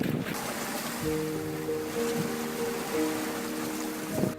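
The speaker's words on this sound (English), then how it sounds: "cranks up his engine and speeds the mama otter away to safety" A boat engine revs up and speeds off across the ocean, a steady motor hum with a rising pitch running over constant wind and surf, close and fairly loud, with a brief louder surge near the end.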